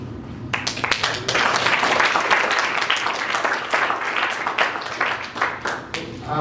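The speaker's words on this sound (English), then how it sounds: "Please, round of applause" Audience applause at a creative AI meetup talk, steady close clapping from a room of people that swells quickly and holds, tapering slightly near the end.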